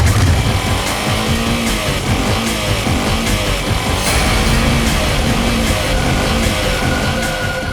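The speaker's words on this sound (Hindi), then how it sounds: "साहब बाइक खुद बोल रही है" A motorcycle engine plays back loudly and steadily, its revving tone rising and falling in waves above a dense, gritty mechanical rumble, with no voices over it.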